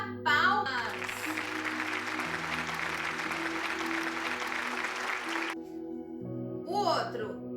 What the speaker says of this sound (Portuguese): Bata palmas.